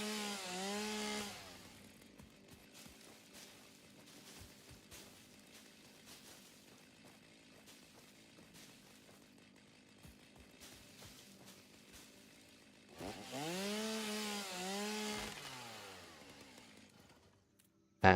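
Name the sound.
chainsaw cutting down trees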